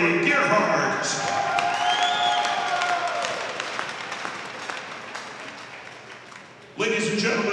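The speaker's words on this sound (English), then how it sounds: "please, a big round of applause for our all-conference players" Crowd applause and cheering for all-conference players at a high school championship game, broadband clapping that swells at the start, then holds steady and dies down before a loud burst returns near the end, with a voice over it.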